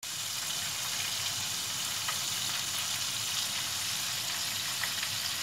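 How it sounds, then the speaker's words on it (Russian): Flour-coated fish fries in plenty of oil, giving a steady close-up hiss with dense crackling and small popping spatters throughout, with no voices. "Жарим рыбу."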